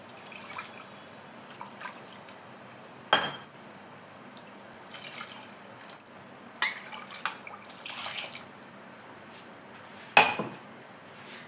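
Water poured from a cup into a pot of chicken dum biryani, a quiet splash and trickle with faint clinks of cutlery and vessel, no voices.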